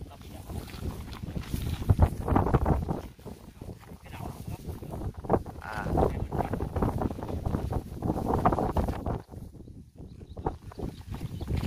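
Strong gusting wind buffets the microphone in a steady, loud roar while a Batman chibi kite is flown outdoors, with people talking over it throughout.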